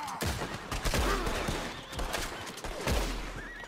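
Rapid gunfire in the video game Red Dead Redemption 2, a loud burst of several close shots fired in quick succession during a roadside horse robbery, with sharp cracks over dense in-game background sound.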